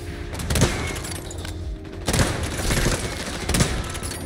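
Sniper rifle shots ring out in the XDefiant shooter game, with several sharp, booming reports spaced about a second apart amid loud game noise, close and forceful, with no talk.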